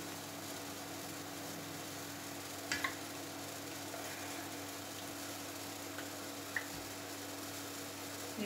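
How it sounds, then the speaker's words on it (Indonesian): Crispy banana fritters fry in hot oil over medium heat, giving a steady, soft sizzling hiss with a few faint clicks and taps as they are turned in the pan. "kita goreng dengan api sedangnya, karena minyak sudah panas saya balik aja"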